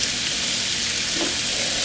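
Shrimp sizzle steadily in a pan of hot butter and oil, a loud, close, continuous frying hiss with no talking over it.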